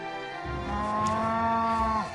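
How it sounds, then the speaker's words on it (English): Cows mooing loudly in the Tekkit Classic Minecraft modpack, one long drawn-out bellowing moo rising and holding for about two seconds, close and alone with no talk. "Shut up, cows, my god. Any need to be that loud?"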